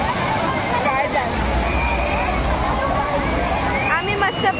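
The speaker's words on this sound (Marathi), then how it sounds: "आम्ही पाण्यातून चाललोय" People wade through cold, fast-flowing water at the Kumbh Mela, with continuous sloshing and splashing close by, while voices chatter over the rushing water.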